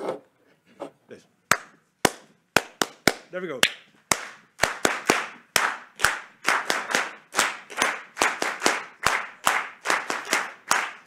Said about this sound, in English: So we're going to give each presenter a clap rhythm applause.